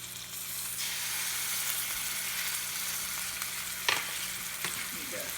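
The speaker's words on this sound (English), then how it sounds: "we're gonna put these in skin side down to begin browning" Chicken pieces brown skin side down in a pan, producing a steady, moderately loud crackling sizzle close by, with a couple of brief sharper pops or utensil touches and no talk.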